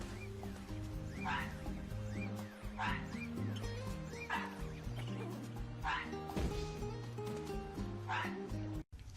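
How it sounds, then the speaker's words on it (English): A cartoonish dog in Super Mario Odyssey barks in a steady, evenly spaced series over bouncy game music, five or six yaps at a moderate level. "bring it to the dog will actually start barking at it"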